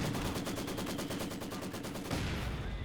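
Rapid bursts of automatic gunfire from a Company of Heroes 2 battle rattle steadily for about two seconds, then give way to a rougher, denser blast of combat noise.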